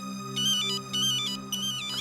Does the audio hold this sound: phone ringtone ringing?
yes